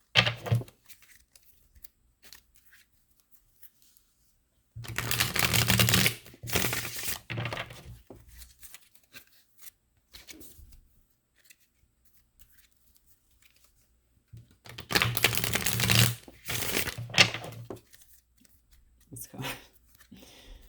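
Tarot-style advice cards being shuffled in two separate bursts of papery riffling and flicking, each lasting a couple of seconds, close by with quiet gaps between.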